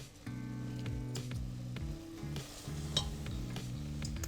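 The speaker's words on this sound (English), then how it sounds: "we're gonna cook it down even more to create a jam" Fruit jam cooks down in a pan with a continuous bubbling sizzle, soft wet squishes and occasional scrapes, while a low droning hum runs underneath.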